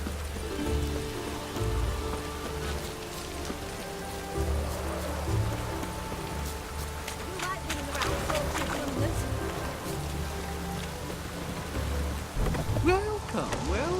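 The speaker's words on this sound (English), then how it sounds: "Looked like it would rain, and here it is." Steady rain pours in The Witcher 3, a dense hiss with scattered drops and a low rumble of thunder, running continuously alongside ambient game music.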